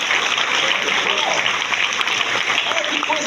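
Loud, continuous clapping from a church congregation fills the space in a dense, even roar with no pauses.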